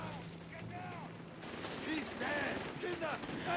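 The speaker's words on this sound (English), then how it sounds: "MG42 doing MG42 things, suppressing" MG42 machine gun fire in a Company of Heroes 3 battle, bursts of gunfire mixed with other combat sounds and whistling tones over a busy battlefield mix, moderately loud throughout.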